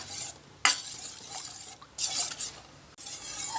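Spoon stirring flour into coconut milk in a pot, scraping in a few short bursts with pauses between, close and clear, with no talk.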